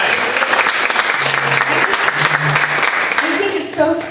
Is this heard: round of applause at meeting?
yes